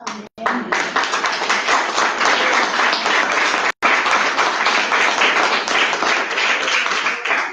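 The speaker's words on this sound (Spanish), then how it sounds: "creo que este Rey de Gloria merece un aplauso." A church congregation claps loudly and steadily after a sermon, a dense, sustained applause that fills the space, with two very brief dropouts.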